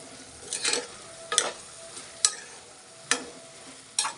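Brinjal fries in a pan with egg curry ingredients, a soft continuous sizzle punctuated by about five sharp scraping clatters of a spatula stirring at roughly one-second intervals.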